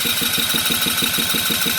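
A fun buggy's small engine running steadily at idle in neutral, a regular low pulsing throb with a rhythmic knock, close and continuous with no talk.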